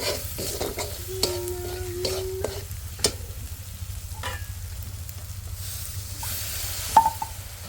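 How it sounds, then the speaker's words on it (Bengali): Ginger, onion and green chilies fry on a stove for a taro stolon curry, giving a continuous sizzle with scraping stirs and occasional clinks. A low hum runs underneath and there is no talk. "এখানে আমি হলো লতির তরকারিটা রান্না করার জন্য চুলায় হলো এই দেখেন এখানে একটু আদা দিয়ে দিছি তারপরে পেঁয়াজ কাঁচামরিচ"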